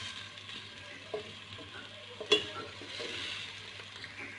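Onions fry to light brown in a pan over a medium flame while being stirred for a green chicken karahi. A faint, steady sizzle runs throughout, broken by a few soft scrapes and clinks from the stirring.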